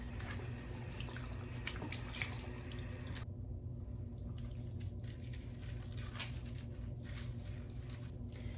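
Warm water runs steadily from a tap onto a hair topper during washing, a continuous close splashing flow with a brief change in texture partway through.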